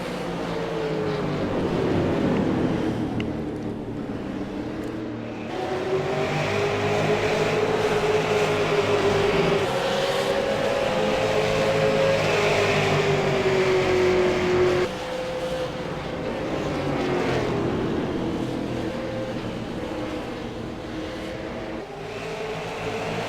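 Super late model race cars roar around an oval track in a sustained loud engine drone, pitch rising and falling as cars pass, with one car's whine sweeping steadily higher near the middle.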